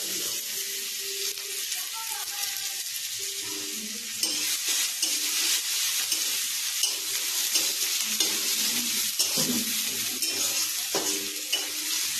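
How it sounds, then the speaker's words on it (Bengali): Garlic paste sizzles and fries in hot oil in a kadai tempered with nigella seeds and dried red chili, a steady close crackle with stirring scrapes and clinks throughout. "কড়ার মধ্যে তেল দিয়েছি একটু কালো জিরে দিয়েছি আর একটু শুকো লঙ্কা ফোড়ন দিয়েছি এবার রসুন বাটা দেবো"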